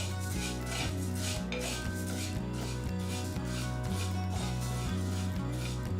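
Dry horse gram (kulith) roasting over low flame in a pan, giving a continuous rasping, rubbing scrape of seeds being stirred against metal beneath a steady, rhythmic tonal background.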